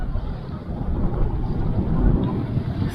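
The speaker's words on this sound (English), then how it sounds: "more windy here." Steady wind gusting across the microphone, a continuous low rumble and buffeting that never lets up, on Bozcaada, a Turkish island in the Aegean Sea.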